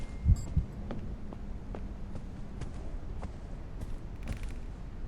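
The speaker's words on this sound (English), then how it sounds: "Heard more heartbeats and everything," Heartbeat in the ghost hunting video game The Other Side, a faint low thumping pulse repeating steadily at close range over a quiet hum.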